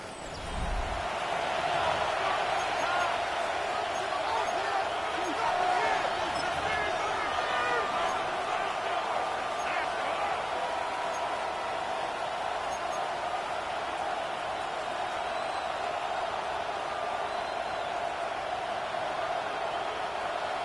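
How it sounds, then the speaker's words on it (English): Football stadium crowd in the Madden 26 video game, a steady roaring wash of cheering that holds throughout, with game commentary talking over it. "This crowd into it now as we get to third down."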